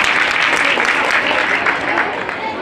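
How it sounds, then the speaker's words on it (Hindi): An audience claps for children taking part in sports at a mini marathon event, a steady roomful of applause that fades slightly toward the end. "इन सबके लिए ताली बजाओ जो स्पोर्ट्स में पार्टिसिपेट कर रहे हैं"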